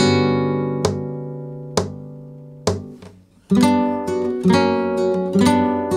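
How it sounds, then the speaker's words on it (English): Flamenco guitar strums the most basic Soleá compás, with sharp, ringing chord strokes spaced apart and left to sustain, followed by a denser flurry of strums, played close and alone. "the most simple version of Soleá's basic compás, sounds like this."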